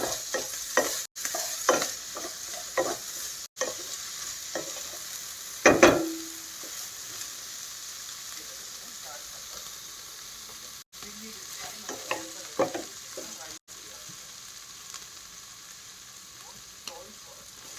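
Fried rice being stirred in a hot pan after soy sauce is added, with a steady sizzle and scraping strokes, one louder clatter near the middle, no talking.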